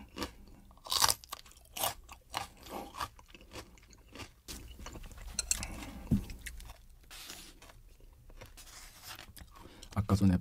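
Close, wet crunching and chewing of live squid in a Korean mukbang, with irregular bites, squelches and smacking sounds spread across the stretch, some loud crunchy bursts, and faint voices murmuring now and then.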